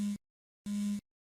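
A mobile phone rings from a sofa, giving two short electronic tones separated by a brief silence.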